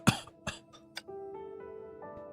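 A character in Honkai Impact 3rd coughs several times in quick, close bursts, each sharp hack followed by quiet, then a faint lingering tone beneath, with no talk.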